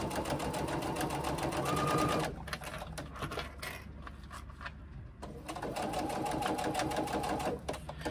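A sewing machine stitches in close, rapid bursts, running hard for about two seconds, pausing briefly with quieter handling, then resuming its fast mechanical chatter.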